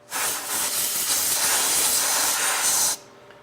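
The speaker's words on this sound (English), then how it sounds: "simply take some canned air and spray it all through this area" A single sustained burst from a can of compressed air, sprayed to clean a sensor area, hisses loudly for about three seconds, then cuts off abruptly.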